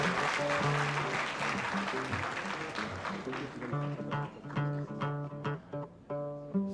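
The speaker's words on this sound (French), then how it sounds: "Ça mérite des applaudissements." An audience at a school awards ceremony applauds in a sustained patter of clapping. Music plays beneath it, and the clapping thins out toward the end.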